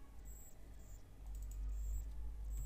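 Keys clack steadily on a computer keyboard while Selenium Java WebDriver code is typed, a quiet, close run of rapid clicks with short pauses and no voices.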